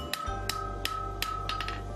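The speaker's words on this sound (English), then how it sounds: "and more hammering to finish the end" A blacksmith hammers hot mild steel on an anvil, giving sharp, evenly spaced metallic strikes about every third of a second over a steady low hum, with no talk.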